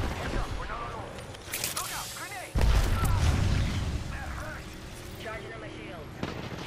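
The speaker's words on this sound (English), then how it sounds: "Opening fire." Gunfire in the Apex Legends video game, a rapid string of sharp shots with a heavy boom in the middle, loud and close under excited player chatter.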